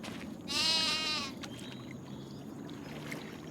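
A single loud, wavering sheep bleat rings out inside a sheep barn in the video game Farming Simulator 25 on the Iowa Plains View map, followed by quieter barn ambience and faint scattered knocks.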